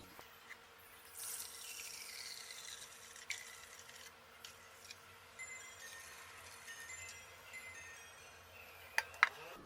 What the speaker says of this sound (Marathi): ह्याच्यावरचं पाणी हळूवार आपल्याला काढून टाकायचं एका भांड्यामध्ये